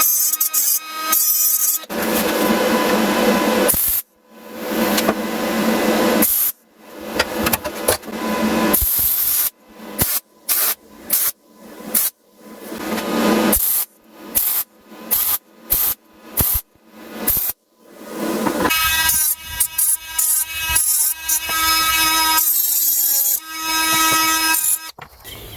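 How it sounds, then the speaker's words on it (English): A grinder bites into chrome-plated metal while a homemade tool is shaped for BMW N57 timing chain work, loud and harsh in repeated bursts of varying length separated by short pauses, some with a whining tonal edge. "I'm going to grind it a little bit just so the metal can bond a little bit better, because it's obviously chrome plated"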